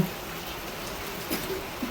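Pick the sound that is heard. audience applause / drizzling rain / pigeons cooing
drizzling rain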